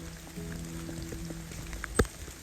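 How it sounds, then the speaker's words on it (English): Rain falls on a walk across the Malvern Hills, a soft continuous patter of drops with a faint hum beneath and one sharp, close tap near the end. "all that's left to do is enjoy your walk in the rain"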